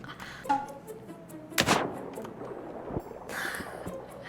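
Video-game gunshots: one loud, sharp blast stands out, with a couple of fainter shots around it over a quiet, hissy background.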